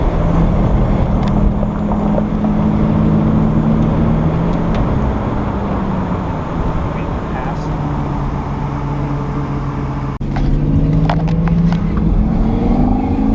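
A Nissan 350Z drift car with a repaired motor runs on a track, its engine droning steadily and shifting pitch as it circles, loud and continuous throughout, with a brief sharp change near the end.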